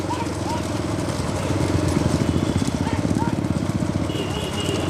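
Bulls pulling carts in a bullock cart race approach with rapid, rhythmic hoofbeats over a busy crowd and engine drone, while voices call out throughout.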